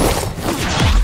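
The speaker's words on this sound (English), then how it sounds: "Explosion!" A short, loud explosion in the video game Dishonored 2 bursts into a crashing blast with a deep falling rumble at the end, filling the entire moment.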